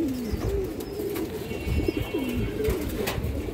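Pigeons of an old-line boot-beaked breed coo repeatedly in soft, rolling low calls, close by and fairly quiet, with faint ambient noise.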